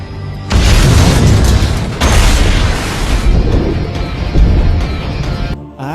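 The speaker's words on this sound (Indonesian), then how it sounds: "sebuah bom tiba-tiba meledak" A massive bomb explosion in a film erupts into a long, loud roaring rumble, followed by a second heavy blast, before cutting abruptly to near silence.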